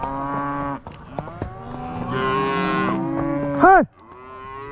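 Cattle at a farm gate moo loudly and close by in long drawn calls, one rising bellow standing out near the end, while a person shouts briefly over them.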